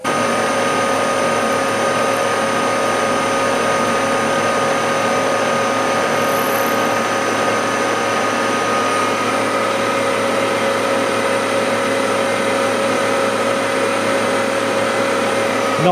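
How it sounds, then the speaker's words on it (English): Milling machine running with its smallest milling cutter, a small 3/32-inch tool, giving a steady loud mechanical whine and hum with a constant tone throughout, no voices. "which is the smallest milling cutter I have"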